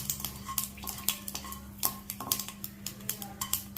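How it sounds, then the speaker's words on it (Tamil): Mustard seeds splutter in hot oil while tempering for a raw mango chutney. Sharp, close pops and crackles arrive in a quick, irregular series. "கடுகு பொரிஞ்சிருச்சு, இன்னும் பொரியணும்."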